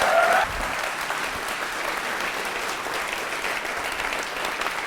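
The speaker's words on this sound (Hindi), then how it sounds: "तालियां बजाइए और उनके सम्मान में आए" Applause from an audience honouring a medical figure at a teachers' training college quiz show, a dense steady wash of many hands clapping that holds at an even level throughout, with no talk over it.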